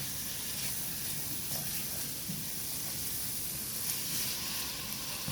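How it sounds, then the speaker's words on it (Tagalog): Head-on shrimp sizzling in a hot pan while cooking pancit bihon, a steady, close frying hiss with faint crackles and no talking. "Lalagyan na natin ang ating hipon. Sinama ko yung ulo para mas malasa."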